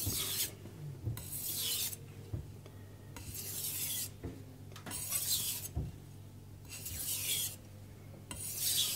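A knife blade scrapes along an 800 grit Chosera whetstone in steady back-and-forth sharpening strokes, about one per second, each a close, gritty rasp with a soft knock at the turn.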